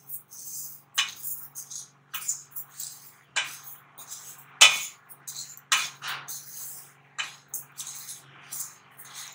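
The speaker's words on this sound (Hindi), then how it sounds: "अब हम ये डालेंगे अलसी, इसको भी मैं हल्के हल्के भून लूंगी।" Flaxseed being dry-roasted and stirred in a pan, heard as a string of light scrapes and clinks, brief and irregular, from a utensil against the metal, with near silence between strokes and a faint low hum underneath.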